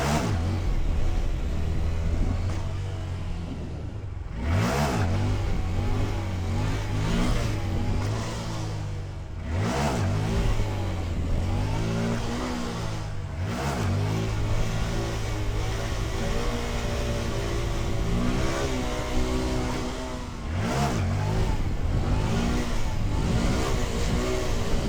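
A Honda Grom motorcycle in a parking lot, its small engine repeatedly revving up and dropping back under throttle and brake, a steady nearby drone with rising and falling pitch swells.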